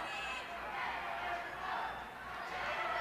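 A capacity crowd at a 1981 WWF All Star Wrestling arena roars in a steady, distant wash of cheering and shouting, continuous throughout.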